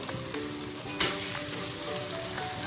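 Fish fries in a pan of hot oil, a close, steady sizzle with crackling spits and one sharp louder pop partway through.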